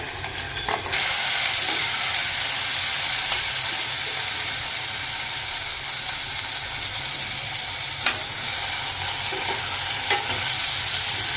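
Chopped potatoes, onions, pigeon peas and carrots fry and get stirred in hot oil in a pot for veg pulao, making a loud, continuous sizzle broken by a few sharp scraping clinks of the spoon.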